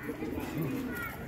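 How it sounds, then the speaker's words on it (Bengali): Pigeons cooing softly in a loft, a low murmuring coo heard briefly amid faint background talk. "এইসব পায়রা যে দেখতে পাচ্ছ সব জেনুইন পায়রা"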